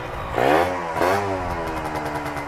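A Yamaha MX King two-stroke motorcycle engine idles and revs nearby, rising in two throttle blips and then settling into a steady, buzzy running note.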